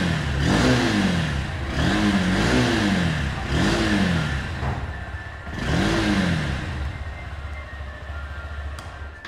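A Honda NX200 motorcycle engine is revved repeatedly near the microphone, four or five rising and falling throttle blips in a steady rhythm before it settles back to a low idle.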